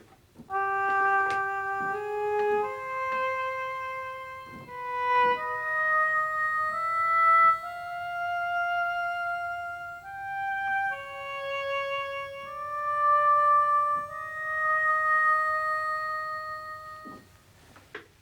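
A synthesized oboe-like tone plays a slow, wandering melody of sustained notes with no clear key, each note held and gliding into the next.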